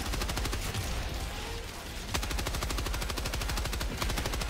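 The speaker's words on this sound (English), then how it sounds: "Come on, Gatling gun, do your thing, player." A Gatling gun fires in the video game Helldivers 2 as a loud, sustained stream of extremely rapid shots with a sharp blast partway through.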